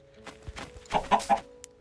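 Chickens clucking in the video game Minecraft, a few short clucks clustered in the second half, moderately loud, with no talking.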